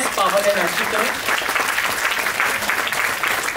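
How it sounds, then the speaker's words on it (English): An audience at an international seminar session on interreligious dialogue for peace applauds with steady, dense clapping that lasts throughout, with a brief voice near the start. "please clap your hands and bless Pavan and Ashutosh."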